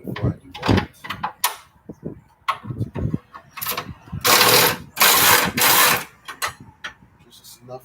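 A ratchet tightening bolts on an angle kit being fitted to a Ford Mustang Foxbody: irregular bursts of clicking with metallic clanks and pauses, close and fairly loud, with brief speech mixed in.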